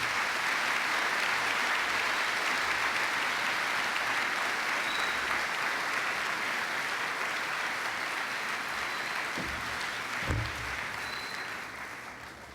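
An audience applauds to welcome George Coyne at a Nobel Conference lecture: dense, sustained clapping filling a hall, steady for about ten seconds and then slowly thinning, with a few louder claps near the end.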